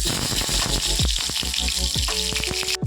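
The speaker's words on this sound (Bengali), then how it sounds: "তেল দিয়ে দিলাম, কালো জিরে ফোড়ন দিয়ে দিচ্ছি, আর একটা কাঁচা লঙ্কা" Nigella seeds and a green chili crackle in hot oil in a heated pan, a bright, dense sizzle running throughout with rhythmic stirring taps and a brief clatter near the end.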